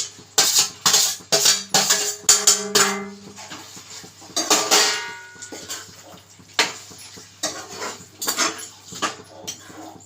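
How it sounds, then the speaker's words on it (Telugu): Fried mushrooms stirred into a simmering mushroom curry in a pan, with a spoon scraping and clinking against the metal in irregular bursts, close and moderately loud, with no talking. "ముందుగా మనం ఫ్రై చేసి పెట్టుకున్న మష్రూమ్ ఉంది కదా, అది దీంట్లో మిక్స్ చేసేయాలి"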